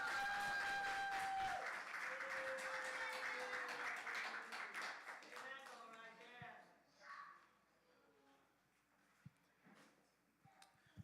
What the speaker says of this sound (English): Clap it up for Daniel,